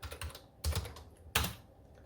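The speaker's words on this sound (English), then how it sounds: "Sometimes when you type it in differently" Quick typing on a computer keyboard, a few close clusters of sharp key clicks in a quiet room.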